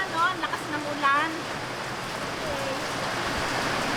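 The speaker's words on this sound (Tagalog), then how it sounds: "Naabutan na po kami ng ulan, no? Lakas ng ulan." Heavy rain falling outdoors, a dense, steady hiss like a downpour on surfaces. A voice talks over it at the start before the rain carries on alone.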